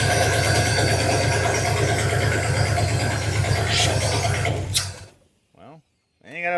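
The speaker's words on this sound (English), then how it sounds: "Sounds like it's got a massive vacuum leak." Old abandoned Pontiac G-body station wagon engine running rough with a massive vacuum leak, a loud steady droning idle that cuts off near the end, followed by someone speaking.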